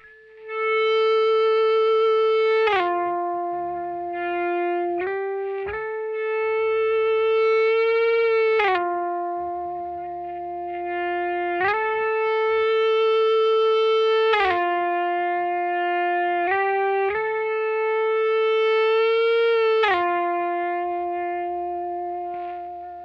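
Electric guitar played with an EBow through heavy reverb and effects, sustaining smooth, singing high notes that glide from pitch to pitch in a slow bridge-section line, loud and alone.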